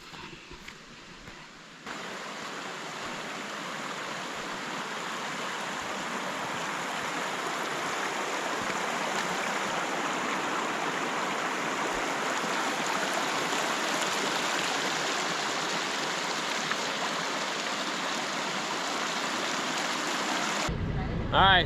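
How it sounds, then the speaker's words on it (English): A mountain creek flows steadily past a camp near Ophir Pass, Colorado, a dense, even rush of water that holds constant from start to finish with no voices over it. "gonna show you guys this creek that kind of runs down by the camp here"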